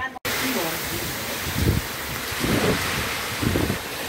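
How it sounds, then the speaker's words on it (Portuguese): Strong wind roars steadily across a rural farm in the Brazilian backcountry during a heavy rainstorm, with a constant loud rush, brief gusting swells and someone speaking over it. "Olha a chuva forte aqui no sítio, ó. Muito vento. Realmente um vento muito forte."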